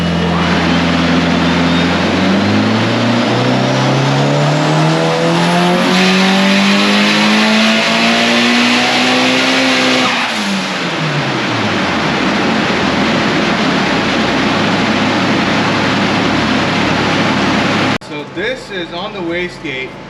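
Built Mitsubishi Evo 8 engine on a dyno, loud and near, climbing steadily in pitch through a long pull before dropping back and settling to a high droning rumble, with a brief break near the end.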